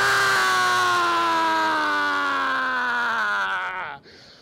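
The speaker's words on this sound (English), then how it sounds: "Yelling in a forest, the primal reset." Several people scream and yell together in a forest, raw sustained primal cries that hold steady for about four seconds, then slide slightly down in pitch and cut off abruptly near the end.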